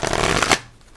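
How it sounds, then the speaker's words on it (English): Large oracle cards riffled in a bridge shuffle, one loud dense burst of flapping card edges that ends abruptly and falls to quiet. "Not bad on the bridge shuffle"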